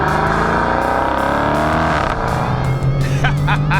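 A 2019 Dodge Challenger R/T 392 Scat Pack Widebody's V8 revs hard and loud, its pitch climbing through acceleration, then dropping as it shifts and settles into a deep steady drone.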